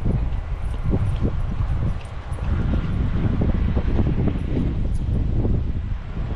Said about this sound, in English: Still pretty windy right now.